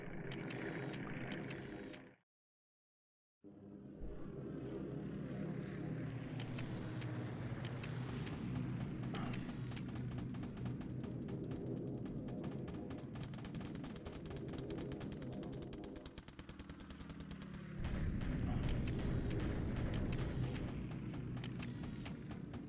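Aerial day bombardment in a WWII wargame combat replay of January 1942, heard as a dense, steady wash of rapid clattering impacts and rumbling noise that runs almost continuously after a brief silence, swelling louder toward the end.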